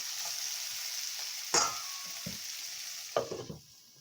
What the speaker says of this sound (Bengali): আলু দিয়ে আবার ভালো করে নেড়ে ছেড়ে নেব